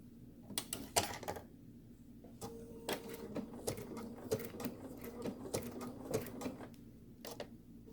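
A domestic sewing machine stitches around an appliqué petal in short, uneven bursts of needle rattle, the motor starting and stopping at a fairly quiet, close level.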